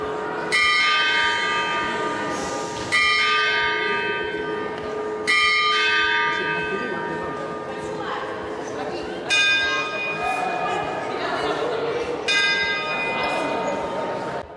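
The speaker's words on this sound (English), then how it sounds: "an articulated automaton which opens his mouth to give the chiming of the hours" Bells of the Papa Moscas automaton at Burgos Cathedral chiming the hours, a series of resonant bell strikes about every three seconds, each ringing and decaying into the next in a reverberant space.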